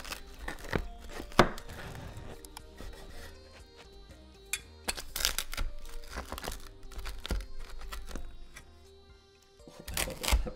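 A hot honey pepperoni pizza is cut with close, crisp crunching and scraping strokes through the crust, coming in irregular bursts with short pauses between cuts.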